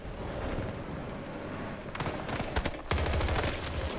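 Battlefield 2042 gameplay gunfire: dense rattling bursts of automatic fire with sharp cracks, growing louder and more intense in the second half, heard without talk.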